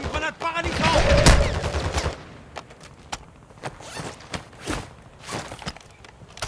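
Call of Duty: Modern Warfare II gunfire sounds in sharp bursts and scattered single shots, mixed with game noise, footsteps and thuds, while a voice speaks French over the action.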